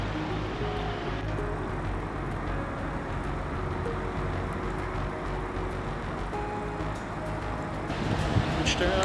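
City traffic rumbles near Nymphenburg Palace in Munich, a steady dense roar of passing cars under someone speaking, swelling slightly louder at the end.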